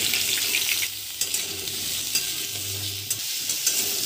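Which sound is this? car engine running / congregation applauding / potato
potato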